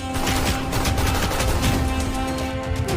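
A war film battle scene is filled with dense, continuous gunfire: rapid overlapping shots and bursts that form a loud, unbroken barrage, with no speech.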